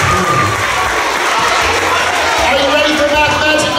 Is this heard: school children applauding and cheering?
yes